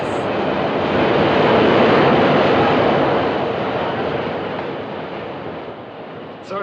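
A subway train rumbles by underneath a street grating as a loud, broadband roar that swells, holds steady for several seconds, and then gradually recedes, with no talking.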